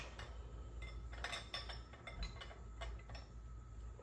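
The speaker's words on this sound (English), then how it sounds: "Secure with the 1 inch wrench" A 1 inch wrench works a fuel fitting on a Holley 4150 carburetor, giving faint scattered metallic clinks and ticks over a low background hum, with no talk.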